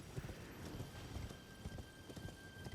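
A horse in a video game clip-clops with a quiet, uneven run of hoofbeats under a soft rain-like hiss in the background.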